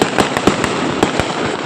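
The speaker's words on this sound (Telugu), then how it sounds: "మేము బయటకు వచ్చినప్పుడు అయితే ఎవరో క్రాకర్స్ వేస్తున్నారు గైస్." Firecrackers bursting outdoors at night during Bhogi celebrations, a rapid irregular string of loud sharp cracks and pops over a continuous crackling hiss, with no talking.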